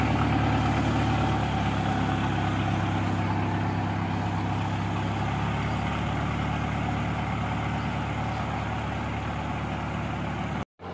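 A motorized ketek river ferry boat engine runs at a steady idle-like drone in the interior of Central Kalimantan, a continuous close mechanical rumble with no talk, cutting off abruptly at the end.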